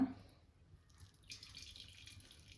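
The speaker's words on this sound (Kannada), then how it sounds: "ಈಗ ಬಸಿಯೋಣ ಈಗ ಒಂದು ಜಾಲ್ರ ಇಟ್ಕೊಂಡಿದ್ದೀನಿ ಅದ್ರ ಮೇಲೆ ಒಂದು ಕಾಟನ್ ಕರ್ಚಿಫ್ ಹಾಕ್ತಾ ಇದ್ದೀನಿ" Whey from curdled milk strained through a cotton cloth over a colander for homemade paneer, a soft trickle of liquid that starts faintly and grows into a steadier pour in a quiet kitchen.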